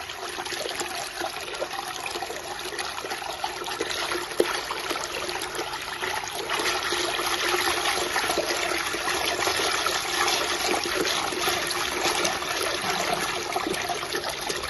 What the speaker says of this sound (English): Let's feel the water pumping performance once again.